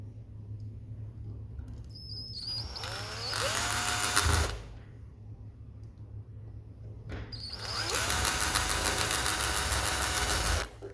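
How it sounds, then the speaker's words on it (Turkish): An electric drill whirs up to speed twice while working on a fishing reel, each run lasting a few seconds, with a steady low hum between bursts. "Ben buraları biraz daha hızlı işlemle yapmak için elektrikli matkapla"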